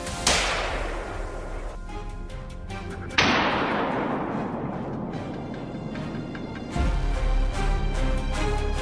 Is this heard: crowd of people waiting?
no